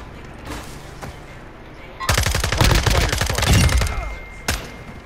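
Call of Duty Modern Warfare II gunfire: a few scattered shots, then a loud, rapid automatic burst lasting about two seconds, followed by one more sharp shot over low game ambience.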